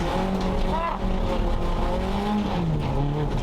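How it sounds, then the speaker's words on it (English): A race car stuck in gravel on a wet circuit revs hard in second gear, the engine droning loud and close with wavering pitch as the tyres spin, a voice talking faintly underneath. "I am holding in second gear, revving it."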